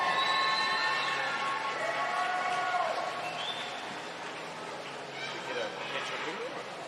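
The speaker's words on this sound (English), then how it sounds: "let's have a round of applause for Chelsea Edwards" Audience applause and cheering at a national short course swimming championship in New Zealand, a broad crowd roar that fades slightly and swells again, mixed with a commentator's voice over the top.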